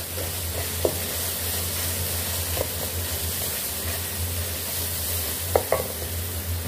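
Ground spices, including salt and paprika powder, stirred into a sizzling frying pan for an Afghani gandana dish, heard as steady frying hiss with a few soft scraping clicks from the stirring, and no talk.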